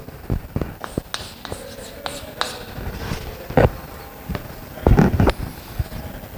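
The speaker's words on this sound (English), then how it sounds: "Write the next problem." Pen or marker writing out a maths problem on a surface, close scratchy strokes and taps in irregular short bursts with brief pauses, no talking.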